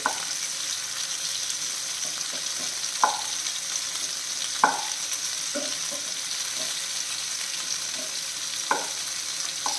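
Green chillies and garlic sauté in a pan over medium flame with a constant hiss of frying, broken by a handful of scraping stirs with a utensil against the pan.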